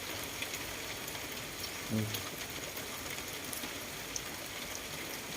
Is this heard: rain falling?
yes